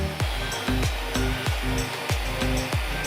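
Table saw cutting a tapered wooden piano bench leg, guided by a miter gauge set to 10 degrees: a loud, close, steady motor whine that sags in pitch in a repeating rhythm, about twice a second, as the blade bites.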